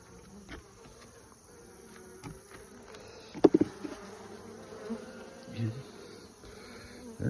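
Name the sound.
honey bees buzzing in hive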